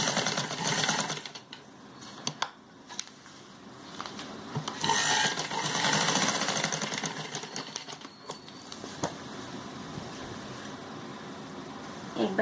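Sewing machine stitching stretchy, grainy kurti fabric, with steady running bursts that stop and start, heard close and moderately loud, with someone talking over parts of it.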